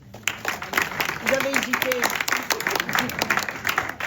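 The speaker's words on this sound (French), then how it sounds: "Alors, on applaudit ces messieurs" Audience applause for the men on stage at a French comedy show, broadband clapping running steadily throughout, mixed with someone speaking over it.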